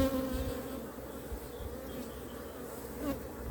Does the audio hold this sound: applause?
no